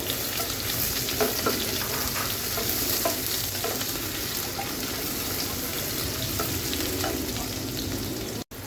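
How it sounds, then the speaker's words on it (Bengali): Chopped onion and a bay leaf frying in oil in a pan, giving a constant close sizzle with occasional stirring clatter, then a sudden cutoff at the end; nobody speaks. "আর দিয়ে দিব পেঁয়াজ কুচি পেঁয়াজ কুচিটা একটু ভেজে দিব"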